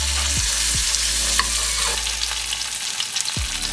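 Steak sizzling loudly in a pan while raw shallots and garlic are basted over it, a steady close frying hiss with a few scraping sweeps of the spoon.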